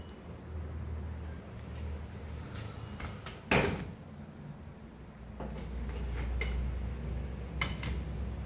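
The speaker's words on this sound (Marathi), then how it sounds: "तर आता भांडी बी घासून घेत आहे पटापट." Utensils are scrubbed and washed at a sink: steel dishes and cutlery clink and clatter in scattered knocks, with one louder clang, over a low running-water hum and no talking.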